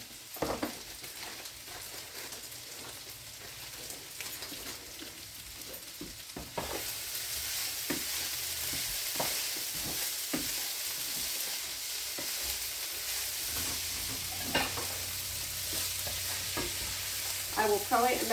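Food fries in a pan on a home stove, mixing intermittent stirring scrapes and clacks with a low sizzle. The sizzle grows louder and steadier partway through, with utensil taps continuing on top.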